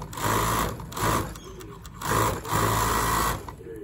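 A cover stitch sewing machine stitches binding with rubber under tension, running in several short loud bursts of rapid mechanical whirring with brief pauses between.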